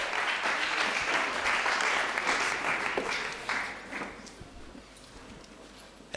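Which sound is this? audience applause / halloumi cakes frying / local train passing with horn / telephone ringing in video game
audience applause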